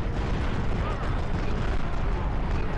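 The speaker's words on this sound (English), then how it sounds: "That was one hell of an explosion." A large explosion in the strategy game Empire Earth II during a Cold War battle comes through as a dense, continuous roaring rumble of blasts that fills the whole clip.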